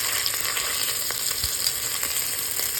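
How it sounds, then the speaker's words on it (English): Cubes of beef sear in a hot pan over high heat, a steady dense sizzle and crackle running throughout with occasional sharper pops, close and fairly loud with no voices. "all we're trying to do is get a sear on the outside"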